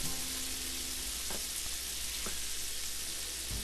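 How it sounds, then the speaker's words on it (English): A steak searing in a cast iron skillet gives a steady, close, dense sizzle with a few faint clicks and no talking. "Put that steak in there."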